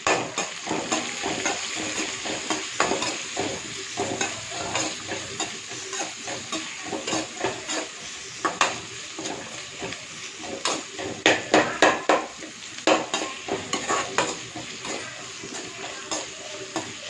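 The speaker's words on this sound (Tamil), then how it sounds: "நல்லா ஒரு 10 நிமிஷம் நல்லா வதக்குவோம்." Onions fry with mustard seeds, cumin, green chillies and curry leaves in a pan, giving a steady close sizzle broken by frequent scraping, clattering stirs.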